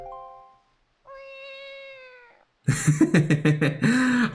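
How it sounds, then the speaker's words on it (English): A cat meows several times in The Legend of Zelda: The Wind Waker HD: drawn-out tonal cries followed by a louder, strained burst of meowing close to the microphone. "Just a meow"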